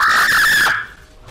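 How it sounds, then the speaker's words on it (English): A loud, high shrieking scream plays when a champion dies in League of Legends, a single piercing wail lasting under a second before cutting off sharply. "Why does this scream so loud every single time you die?"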